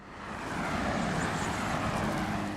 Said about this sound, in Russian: Звуки машин